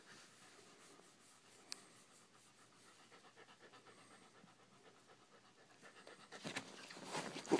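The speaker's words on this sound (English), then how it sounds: "Crazy dog. Crazy dog." A dog pants quickly and steadily nearby, the breathy rhythm growing louder toward the end with some rustling.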